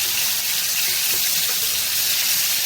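Khalisha fish frying until crisp in hot oil in a frying pan, a continuous bright hiss and sizzle held steady throughout, close and fairly loud with no talking.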